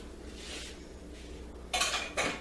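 A spatula scrapes red grape chicken salad out of a bowl, giving two short, close scraping strokes near the end after a quiet stretch of faint kitchen rustling.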